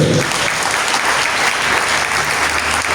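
A church congregation claps in steady, dense applause that stays loud and even throughout, with no break and no clear speech.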